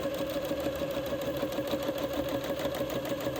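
A sewing machine stitches basting thread along a narrow cuff on a Christmas dress, producing a steady, even mechanical whir and rapid needle chatter that runs unbroken and close throughout.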